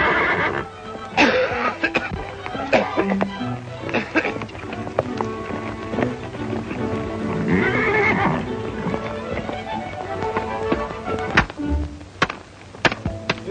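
A horse whinnies loudly over steady clip-clopping hooves, with thuds and scattered noise throughout.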